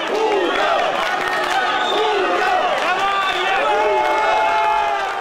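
Crowd of fans, including Ural Steel supporters, cheering and shouting loudly and continuously from the stands at a corporate Metalloinvest Spartakiada swimming race, many voices rising and falling in overlapping waves.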